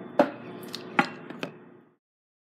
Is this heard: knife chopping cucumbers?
yes